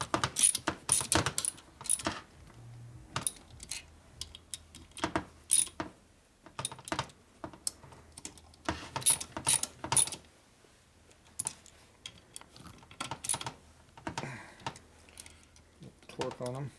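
Screws are tightened on a 1984 Shovelhead four-speed transmission, giving irregular close metallic clicks and ratcheting taps in quick bursts, with someone talking between them.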